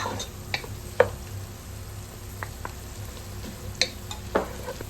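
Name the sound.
mild green chillies frying in a pan for creamy pasta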